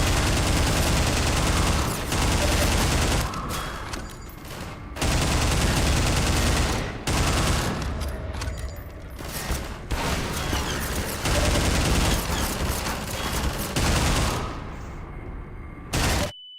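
Heavy sustained gunfire in the video game Half-Life 2, dense bursts of automatic shots and booms rolling almost continuously with brief lulls, loud and close.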